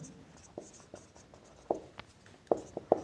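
Someone writing out a maths answer by hand: short, sparse scratches and taps of the writing tool, close and quiet, with a few sharper strokes near the end.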